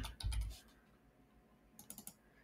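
Typing on a computer keyboard while entering an Excel formula: a quick flurry of key clicks at the start, a pause, then another short burst of keystrokes, quiet and close.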